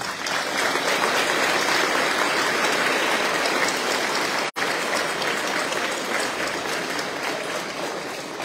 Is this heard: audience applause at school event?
yes